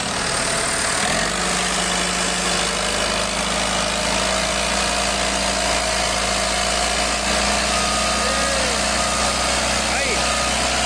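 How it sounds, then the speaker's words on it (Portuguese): A tractor and a combine harvester run together during a maneuver on a farm field, a loud, steady low engine rumble with mid-pitched mechanical whine holding throughout, a shift in tone after the first second. "a manobra aqui para tirar a colheitadeira agora"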